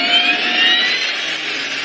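A jet airliner on its takeoff roll in a Flight 1549 reconstruction gives off a loud, steady roaring whine, continuous and close throughout.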